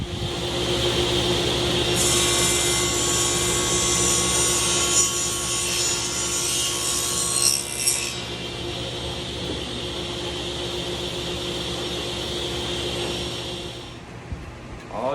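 A power saw tilted to a 22.5-degree bevel trims the edges of a wooden piece, whining steadily with a bright cutting pitch for several seconds before spinning down, close up with no talk.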